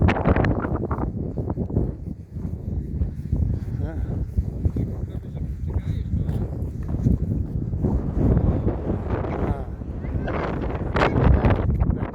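Strong gusts batter the microphone outdoors near Grunwald, Poland, a loud continuous low rumble with buffeting surges throughout, and a voice talks faintly underneath.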